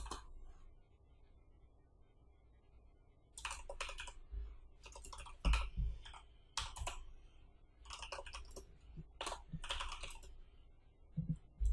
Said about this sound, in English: I'm just going to type it faster.